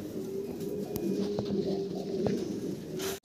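Fancy pigeons coo in soft, repeated low calls at close range, a steady murmur from several birds with no talking.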